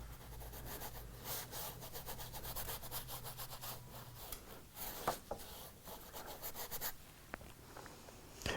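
A paintbrush scrubs dark paint into the sky area of a canvas with rapid, rhythmic, close-up strokes. The scratchy rubbing is quiet and carries on without speech.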